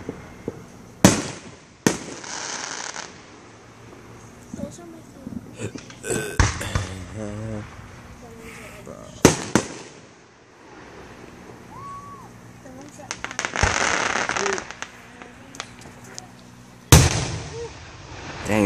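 Fireworks spectacular with repeated sharp bangs and crackling bursts at irregular intervals, some loud and close, with people talking between the explosions.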